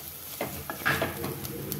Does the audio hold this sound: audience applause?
no